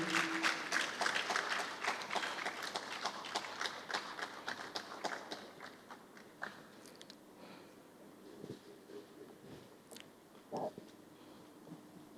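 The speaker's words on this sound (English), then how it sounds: "Ladies and gentlemen, a round of applause for Ms." Audience applause at a media lecture, a dense run of clapping that starts loud and gradually thins out, with a few scattered claps and light crowd murmur near the end.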